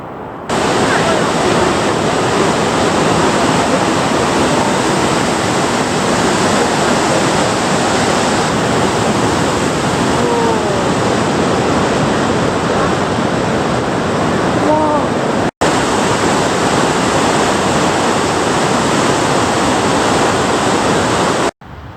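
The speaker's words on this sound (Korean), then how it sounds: "바람이 진짜." Strong wind in Quebec batters the microphone outdoors, a loud, unbroken roar that holds for the whole stretch apart from one brief dropout.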